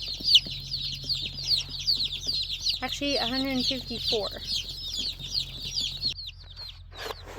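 Young Buff Orpington layer chicks cheep in a busy, continuous high chorus close by, with a brief louder squabble in the middle, while someone speaks briefly.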